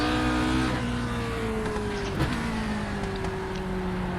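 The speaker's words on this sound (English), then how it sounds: "So there are a few laps in this absolutely amazing Formula 1 car from 1967." A 1967 Lotus 49 Formula 1 car in iRacing gives a steady, high engine whine with falling pitch as it lifts off and shifts, and a brief click midway through.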